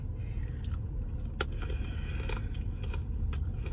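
Crisp crunching bites of fresh fruit, close up, repeating every second or so over a steady low rumble of background noise.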